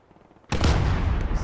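A Stuka zu Fuss rocket barrage in Gates of Hell: Ostfront starts after a brief quiet moment. It erupts as a loud, roaring, sustained blast of launches, heavy and close.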